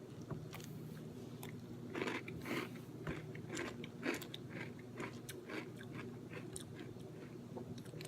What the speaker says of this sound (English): So let's take our first bite.